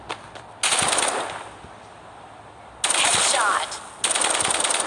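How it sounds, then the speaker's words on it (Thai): Vandal rifle fire in the shooter Hyper Front comes in loud, close automatic bursts, a long burst, a pause, then two more bursts separated by a brief gap. "เดี๋ยวผมยิงกับเป้าเคลื่อนที่"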